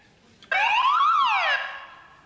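A single loud electronic game show buzzer on Wipeout blares for about a second with a wavering, siren-like tone, then fades out.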